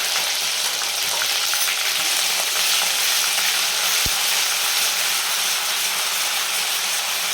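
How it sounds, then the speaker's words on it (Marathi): Ground coconut and onion masala paste sautéing in hot oil for a mutton dish, a dense, loud, continuous sizzle up close with one brief sharp tap partway through, no voices. "आणि छान तेलामध्ये परतून घ्यायचं."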